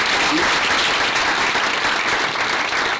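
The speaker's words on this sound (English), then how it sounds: "Round of applause, please" A round of applause from an audience at a live talk event, a dense, even roar of many hands clapping at once, loud and sustained throughout with no clear voices.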